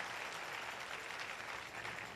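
A church congregation applauds during a service, a steady, dense wash of many hands clapping at once that fills the space evenly and continuously.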